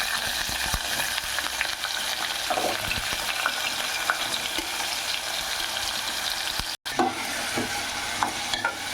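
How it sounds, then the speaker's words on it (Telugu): Cut potato pieces with curry leaves fry in hot oil in a steady, loud, close sizzle with light stirring scrapes throughout. "ఇదిగో బంగాళదుంపలు కట్ చేసి పెట్టుకున్నాను. అవి నూనెలో వేగాలి బాగా."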